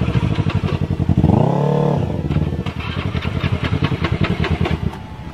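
A motorcycle on a stunt-riding scene restarts and idles with a steady, rapid close-up putter, revving briefly in a smooth swell before returning to a loud, rhythmic idle.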